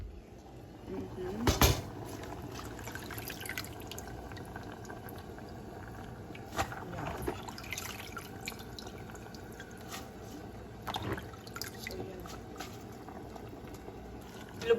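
Sweet potato leaves dropped into a boiling pot of water in a home kitchen, a soft splash followed by steady faint bubbling and occasional drips, with quiet talk at times.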